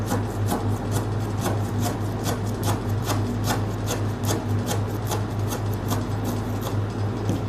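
Kaffir lime leaves sliced into thin strips with a knife for Thai pork khua kling, a steady run of quick, close cutting strokes against a board, with a constant low hum beneath.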